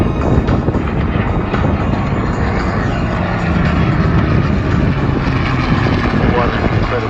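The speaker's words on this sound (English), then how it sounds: "You can see the F-35 slightly nose up, just keeping pace with the Mustang." Loud, dense propeller and jet roar from an F-35 and a P-51 Mustang flying past together at the Newcastle air show, a steady wash of engine noise throughout with crowd voices and commentary mixed underneath.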